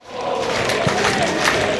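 Football match crowd of around 3,000 at Spitty Park, a loud, dense roar of voices and shouts rising steadily across the brief moment, close and continuous.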